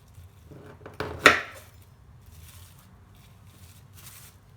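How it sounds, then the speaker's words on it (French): A round cutter pressed through rolled cookie dough gives a few soft taps and then a sharp knock against the work surface, followed by quiet light handling sounds. "Et on va couper des ronds"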